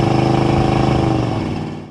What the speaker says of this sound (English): Motor strong. Transmission shifts like it should. Exhaust sounds good.